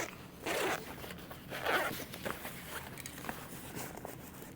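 A zipper on a sewn bag is pulled in a few quick rasping strokes, close and fairly quiet, with small handling noises between them.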